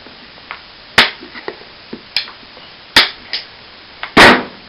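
Pegs are hammered into a cowboy boot under repair: about half a dozen sharp, loud taps and knocks at irregular intervals, close and alone, with no talk.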